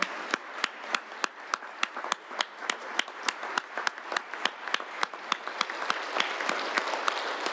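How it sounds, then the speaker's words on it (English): Applause in a state Senate chamber honoring the Reading Rangers high school championship football team: a sparse, distinct round of separate hand claps repeating at a steady, somewhat uneven pace, fairly close and moderately loud, with no talking over it. "Give them a round of applause"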